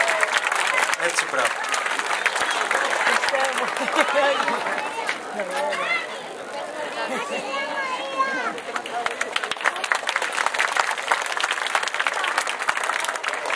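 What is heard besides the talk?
audience applause at a student awards ceremony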